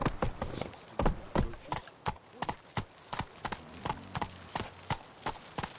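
Horse hooves clip-clop in a steady trotting rhythm in the video game Witcher 3, close and crisp, with each strike landing at a fairly even pace.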